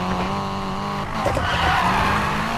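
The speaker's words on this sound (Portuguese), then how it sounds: "Aí, já tá dando uns drift" Nissan Silvia tuned for drifting in Need for Speed Payback, its tires skidding and squealing over a steady engine drone, loud and continuous, with a rougher burst of tire scrub midway.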